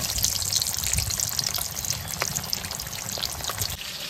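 Whole onions drop into hot oil already spiced with chili, cinnamon, cloves and cardamom, giving a steady close crackling sizzle with spattering pops that continues throughout, with no talking.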